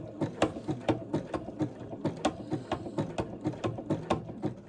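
Sewing machine stitching across the end of a fabric strip tab while making a rag rug, heard up close as a fast, steady run of mechanical clacks and whirring pulses with no talking.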